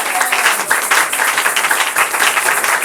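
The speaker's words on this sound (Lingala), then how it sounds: "Est-ce qu'on peut acclamer très fort pour le Seigneur?" A church congregation at a Sunday service applauding loudly and steadily, dense clapping filling the room from start to finish.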